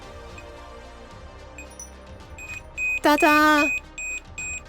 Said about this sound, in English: let's just hear a pulsing beep because that'll be fun